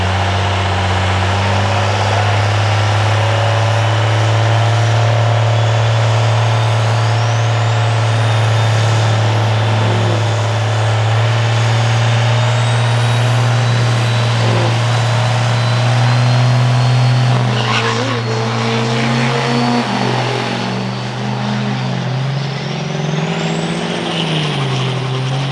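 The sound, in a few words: Cummins diesel truck making a drag racing pass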